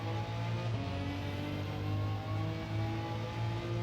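A BMW M4 in Gran Turismo 7 holds a loud, steady engine drone under load, continuous and close throughout with no gear change or talk.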